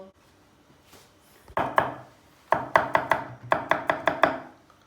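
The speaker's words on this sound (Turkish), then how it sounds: "Hemen üç diş de sarımsak doğradım." Knife chopping three garlic cloves on a wooden board in a home kitchen: a few sharp cuts, then a quick rhythmic series of close, crisp thuds.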